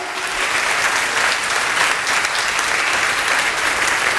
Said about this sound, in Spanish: ¿Por qué no damos un fuerte aplauso al Señor?